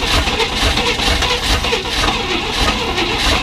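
A 1967 Chevy C10 truck's 327 V8 engine starts for the first time, churning and roaring steadily up close, a rough continuous rumble with no clear pauses.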